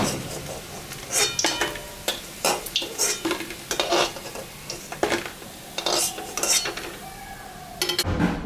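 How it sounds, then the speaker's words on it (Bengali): Fried ash gourd pakoras are lifted from a pan of hot oil, with repeated metal scrapes and clinks of a spatula over a steady low sizzle, close and fairly loud. "পকোড়াটা ভাজা হয়ে গেছে আমি এখন তুলে নেব"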